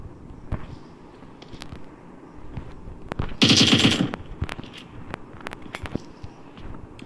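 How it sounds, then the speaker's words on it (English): Automatic gunfire in PUBG on the Erangel map, a short rapid burst of about ten loud close shots in the middle, with scattered single distant shots and clicks before and after. "that was just random shooting"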